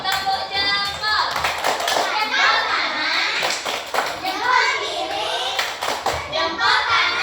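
Children clap together in a classroom thumb-clap routine, quick rhythmic hand claps mixed with kids' voices and a teacher talking, fairly close and lively throughout.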